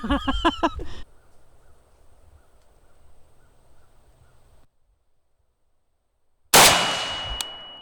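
An FN SCAR 20S rifle fires a single loud, sharp shot onto a steel target, followed by a ringing decay, after a short stretch of talking and a quiet pause.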